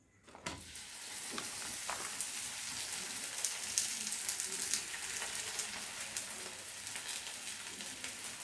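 Masala roti made with soya beans, oats and fenugreek greens fries in a little oil on a tawa over a medium flame, giving a steady, close crackling sizzle with scattered pops that continues throughout with no talking.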